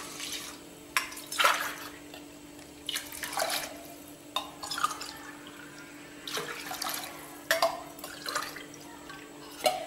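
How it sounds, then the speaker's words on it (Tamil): Water being poured from a cup onto soaked rice and lentils in a pot for Tamil ven pongal, several separate splashing pours close by, each a second or so, with quieter gaps between. "இப்போ 1 கப் அரிசிக்கு 4 கப் தண்ணி ஊற்ற போகிறேன்"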